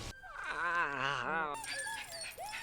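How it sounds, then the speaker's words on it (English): A dog whimpers in the animated film Lilo & Stitch: a wavering, high, tremulous whine that rises and falls for about a second, then gives way to other soundtrack noise and a short closing yelp. "Oh, poor dog."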